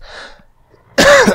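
A single harsh, close cough bursts out loudly after a soft breathy sound and a short pause, sounding raspy and throaty.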